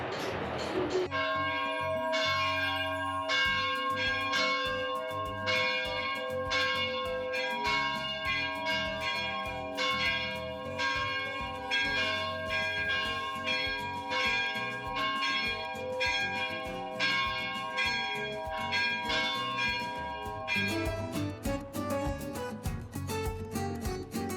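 Church bells in Madaba, Jordan, ring loudly and continuously, struck over and over in a fast, overlapping peal that fills the whole stretch.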